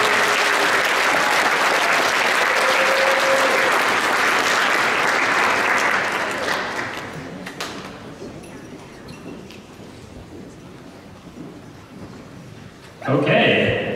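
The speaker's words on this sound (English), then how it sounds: "We can give them a round of applause." Audience applause at a science fair awards ceremony for junior and senior finalists, loud and sustained clapping from a large crowd for about six seconds, then fading into quieter room noise with a brief renewed burst near the end.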